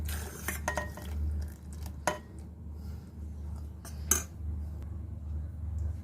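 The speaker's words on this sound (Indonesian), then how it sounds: "Kemudian kita aduk hingga tercampur rata ya." Sugar water being stirred into a flour batter for Hong Kong-style linko rice cake, with soft scraping and a few sharp utensil knocks against the bowl at intervals over a low steady hum.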